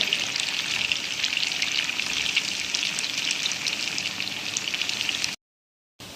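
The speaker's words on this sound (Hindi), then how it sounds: "अब हम इसको फ्राई करें।" Suji katli pieces frying in a pan of hot oil, a continuous bright crackling sizzle that holds steady for several seconds before cutting out abruptly.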